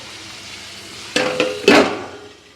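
Curry being stirred in ghee in a pan, with a few close scrapes and clanks of a spoon against metal over a low sizzle, then fading.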